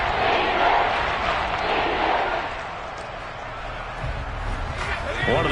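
A football crowd roars steadily and loudly through a game ahead of a big third down, a dense wash of cheering and shouting under an announcer's voice.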